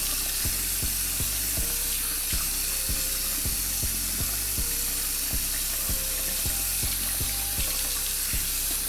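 Tap water runs steadily into a sink during a hair wash for a 360 waves routine, a constant rushing hiss close to the microphone with small regular clicks and knocks underneath.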